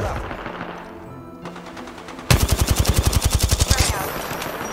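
Rapid automatic gunfire at an enemy in Apex Legends: quieter ambience, then a loud, evenly spaced burst of about twenty shots in quick succession, tailing off near the end.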